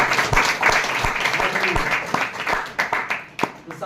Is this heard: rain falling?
no